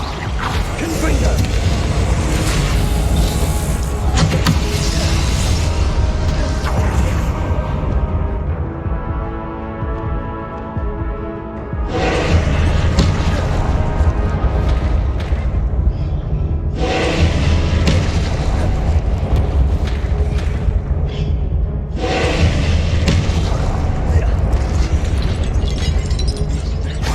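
Confringo blasting spells going off in the Hogwarts Legacy video game, loud, booming fiery explosions in several long roaring bursts separated by short quieter gaps, with a voice speaking intermittently among them.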